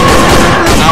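Dense, continuous gunfire from a TikTok AI live effect roars loud and close as a rapid fusillade filling the whole second.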